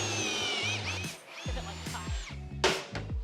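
A power drill boring pocket holes through a wooden plank with a Kreg 720 Pro jig, its motor whirring in several close, rising and falling bursts with brief pauses between them.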